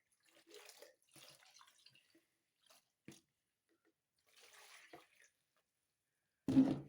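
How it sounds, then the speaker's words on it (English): Water splashes briefly into a pot of marinated chicken near the end, after several short clinks and faint handling noises with quiet gaps between them. "I'm going to use a little water to get the marinade off"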